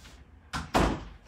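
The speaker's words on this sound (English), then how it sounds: "Had to shut the door." A door is pushed shut indoors in a crafting room: a soft thud followed by a louder, close slam with a lingering rattle, and no talking.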